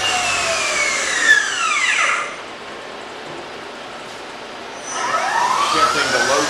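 An Okuma LB-15 CNC lathe spindle in high gear winding toward 3000 RPM, a loud rising whine that settles into a steady hum, then sweeps through its pitch again, close and with no talk.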